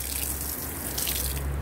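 Water poured from a hose or can onto soil over buried food scraps in a garden bed, a steady gushing splash close by with no talk.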